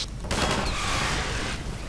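A loud burst of explosion and gunfire erupts during combat in the Half-Life 2 video game, a dense, roaring blast that rises suddenly and holds for over a second before easing off.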